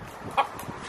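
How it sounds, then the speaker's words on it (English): A single short cluck from a chicken near an abandoned house, faint and brief against quiet background noise. "Oh, look at chicken."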